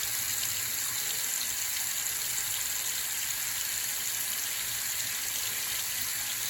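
Cold water running steadily from an opened faucet above a sink in a home bathroom or kitchen, a constant bright hiss and splash that stays even from start to finish, with no talk.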